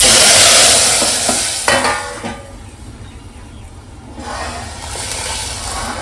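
Loud scraping and stirring of yogurt curry in a pot over a frying hiss, with a few sharp knocks, then a quieter stretch before the stirring noise swells again.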